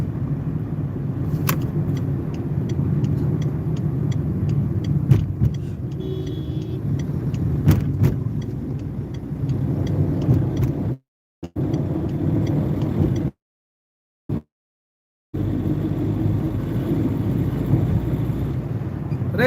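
A car drives fast along a highway, its engine and road noise forming a steady close rumble with wind buffeting, broken by a few abrupt dropouts.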